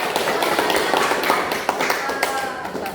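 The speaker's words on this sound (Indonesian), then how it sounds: "Tepuk tangan untuk kelompok" Classroom clapping for a student group, a brisk scatter of hands clapping in a small room with some louder individual claps, fairly near.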